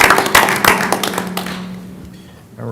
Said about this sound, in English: Can we give him a round of applause, them a round of applause, please?